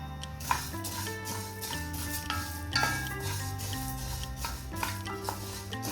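Coriander seeds dry-roast in a pan, a faint dry rustle with repeated scraping stir strokes and light clinks over a steady background hum.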